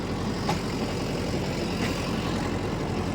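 A Mahindra Yuva Tech Plus tractor engine held at 1600 rpm while driving a rotavator through damp field soil, a steady, even drone throughout with no talk.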